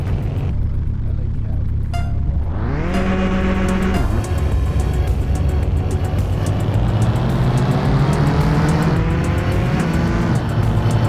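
A race car in the Mon Bazou video game runs a night race, its loud engine climbing in pitch through repeated gear shifts and revving hard throughout with no pauses.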